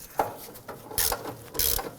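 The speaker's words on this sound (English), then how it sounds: "I'm going to use my ratchet with the extension and see if I can get those threads started" Ratchet with an extension turning a control arm bolt to start its threads on a 2008-2011 Ford Focus rear upper control arm, giving a few close, brief clicking bursts at an irregular rhythm.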